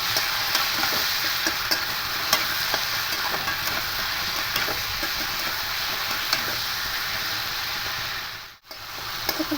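Salt and grated tomato being stirred and sautéed in a pan for a thin rohu fish curry with ridge gourd and potato, a steady close sizzle with scraping stirs throughout and a brief dropout near the end.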